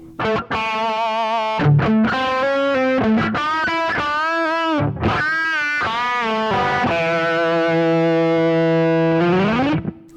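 Distorted electric guitar plays a melodic lead line with bends and sustained notes, loud and up close.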